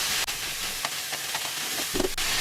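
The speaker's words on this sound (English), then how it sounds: "As the meat's cooking, now we're going to continue to just kind of break it up in the pan" Ground meat sizzling steadily in a hot pan while a utensil breaks it up, with soft scraping and stirring scrapes popping through the constant hiss at close range.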